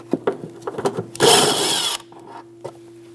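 A 10mm socket works plastic fender fasteners loose on a Jeep Renegade, a close, rough grinding burst of about a second preceded by several sharp clicks and taps, with a steady hum underneath.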